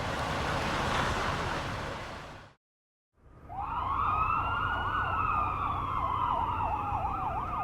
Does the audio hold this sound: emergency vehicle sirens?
yes